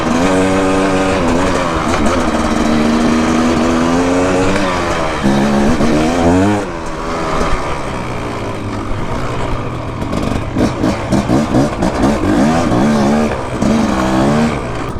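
A KTM 300 two-stroke dirt bike rides along trails, its engine revving up and down in rising and falling whines, loud and close throughout, with no talking.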